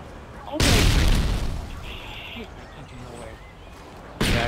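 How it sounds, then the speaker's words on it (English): A flashbang grenade bursts in a tactical shooter game with a loud, booming broadband blast that fades over a second, followed by quieter game ambience and a second loud burst near the end. "Atirando uma granada de luz."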